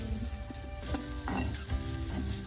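Onion, garlic, dried coconut, chilli and curry leaves dry-roasting and stirred in a pan for village-style crab masala, a steady close sizzle with scraping stirs throughout, no talk.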